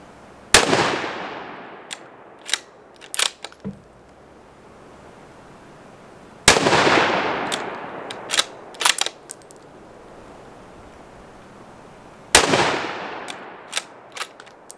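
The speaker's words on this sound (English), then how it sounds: "let's shred them with a 204" Three loud, sharp 204 Ruger rifle shots ring out at even intervals, each followed by a decaying echo and a few smaller pops and clatters as shaving cream cans burst.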